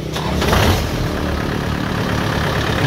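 A Kubota DC70 engine fitted to a Yanmar 3000 tractor runs at moderate throttle. It makes a loud, steady, rumbling diesel drone that holds constant throughout, with no talk.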